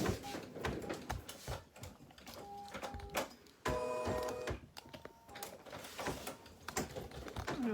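An embroidery machine stitches with fast, rhythmic mechanical clicks and whirring, close and steady, with brief pauses and tonal motor whines between runs.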